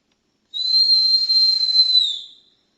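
One sustained high-pitched whistle, performed to imitate a forest creature in a Guarani educational theater piece, rings out clear and alone for about a second and a half before fading.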